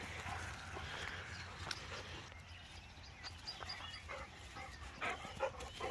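A big dog whimpers and gives a few short yips and barks amid outdoor background noise on a countryside outing, the sounds fairly faint and scattered.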